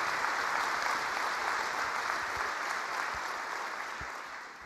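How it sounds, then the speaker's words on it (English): A conference audience at the 2018 ACS Quality and Safety Conference claps for volunteers, a dense, even wash of applause that slowly tapers off. "I'd like to give them a round of applause right now"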